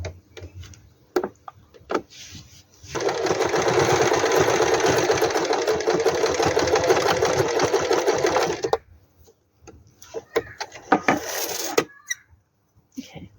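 A sewing machine stitching a soap bag in a car-camping craft, a loud steady whir of rapid needle strokes lasting several seconds, bracketed by clicks and fabric handling.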